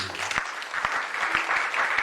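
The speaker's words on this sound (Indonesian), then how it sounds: "Berikan tepuk tangan" Church congregation at an anniversary service clapping together, a steady wash of applause with a few sharper individual claps standing out.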